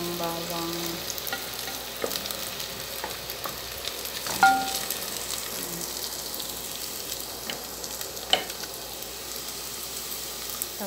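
Chopped garlic fries in hot oil until brown, a steady low sizzle with scattered stirring scrapes and a couple of sharper utensil clinks, close and unvoiced.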